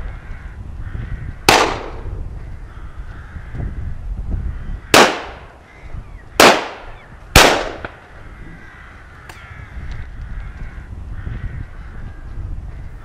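Four loud, sharp shotgun reports crack across open farmland during rook shooting, irregularly spaced, while rooks keep cawing and squabbling in the background throughout.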